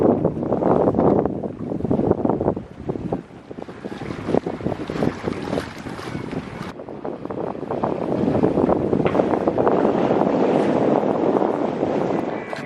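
Steady wind rushes and buffets the microphone aboard a sailboat on Canadian coastal waters, with water washing against the hull; the roar stays loud and continuous, swelling slightly toward the end, with no talking.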